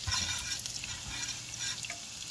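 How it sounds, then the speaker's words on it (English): Garlic and green seasoning sauté in butter in a pan for callaloo, giving a soft, steady sizzle with faint stirring, quiet and continuous, with no talking. "when you saute it like this in the butter, you don't get that strong taste"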